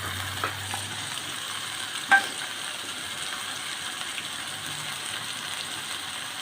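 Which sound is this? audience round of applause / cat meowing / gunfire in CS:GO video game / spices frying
spices frying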